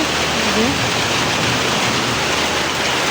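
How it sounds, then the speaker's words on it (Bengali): Heavy rain falls in a dense, steady roar of broadband hiss, loud and unbroken throughout, with no distinct drops standing out. "এখন হচ্ছে বৃষ্টি শুরু হয়ে গেছে।"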